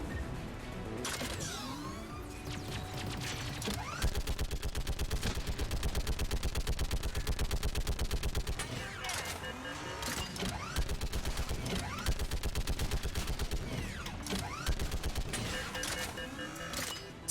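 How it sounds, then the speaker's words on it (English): A mounted gun in Mass Effect 3 fires in long, rapid bursts, dense rattling shots running almost continuously, with mechanical whirs and distant blasts scattered between, loud and close. "Let me get onto that lovely gun."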